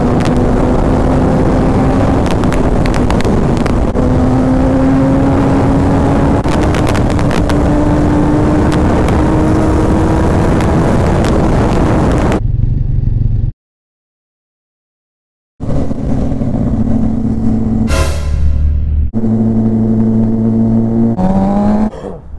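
A Suzuki GSX-R sport motorcycle being ridden, its engine droning loud with heavy wind rush and shifting pitch, a short cut to silence, then revving and accelerating tones returning.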